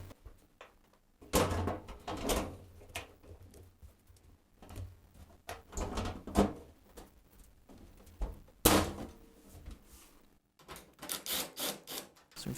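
Washing machine door being fitted into place during a bearing replacement repair, a series of scattered knocks, thunks and plastic clatters separated by quiet gaps, with no talking.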